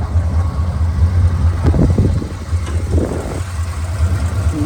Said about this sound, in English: Motor sounds really good in it.